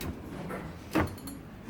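A large IKEA kitchen cabinet drawer slides open once in a brief, close swish that stands out over a low, steady room hum, with no talking.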